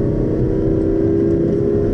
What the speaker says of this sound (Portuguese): vamos dar uma aceleradinha